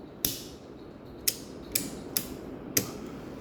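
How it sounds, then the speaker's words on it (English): Switches in a house are flipped off one after another: five sharp, crisp clicks at uneven intervals, close and clear over a quiet room with no talking. "Let's turn the switches off over here."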